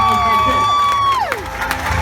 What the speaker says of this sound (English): when the audience scream, cheer, clap and go wild